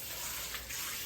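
Tap water gushing steadily into a Jamaican Dutch pot as it is rinsed, a close, constant hissing splash for about a second with no talking.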